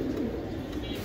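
A BRPFC club racing pigeon in moult gives a low, throaty coo, brief and fairly close against a faint background murmur.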